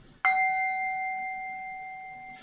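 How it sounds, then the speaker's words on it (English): A small hand bell struck once to mark the stock market open gives a sharp, close strike followed by a clear, steady ringing tone that sustains and slowly fades, alone without speech. "Where's my bell? Here it is."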